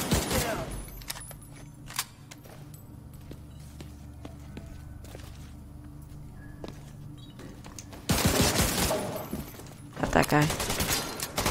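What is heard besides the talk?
gunfire in the video game The Division 2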